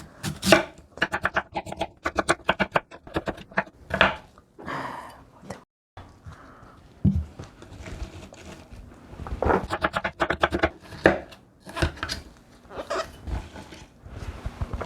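A knife cuts radish into thick strips on a cutting board, making rapid, close chopping taps in bursts, pausing briefly and then resuming in steady runs.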